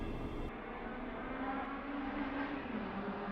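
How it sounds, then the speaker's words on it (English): Two cars racing on the street outside an apartment make a steady, broad engine roar, heard from indoors as a continuous rushing drone. "That was loud. 2 cars are racing."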